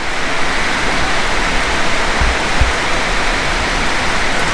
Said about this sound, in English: it started really pouring down again.